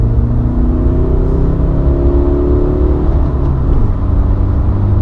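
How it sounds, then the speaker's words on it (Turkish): A 2018 Honda Civic Sedan with a 1.6 diesel engine accelerating in second gear, heard from inside as a loud, steady low engine drone whose pitch climbs gradually with road rumble beneath, no speech. "Gördüğünüz gibi gayet güzel hızlanıyor"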